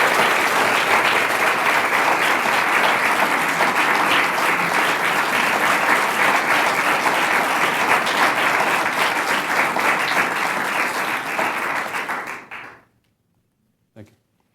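Sustained, loud applause from an audience at a service award presentation honoring 41 years of service, dense clapping for about twelve seconds before cutting off, followed by a lone sharp tap.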